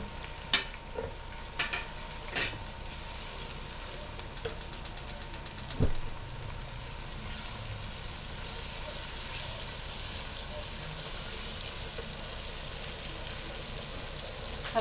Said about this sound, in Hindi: और नमक मिर्च डाल के इसका मसाला भून लेते हैं।